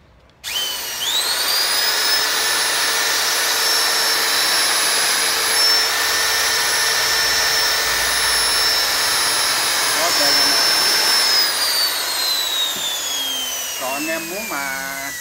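A Toshiba 100V Japanese-market electric grinder spins up abruptly and runs at a loud, steady high whine for about ten seconds, then winds down with a falling pitch as it coasts to a stop.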